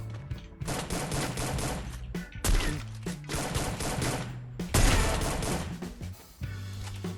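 Gunfire fills a shooting video game, with rapid automatic bursts and single shots crackling in quick succession, broken by brief gaps and one heavier blast partway through, loud and close.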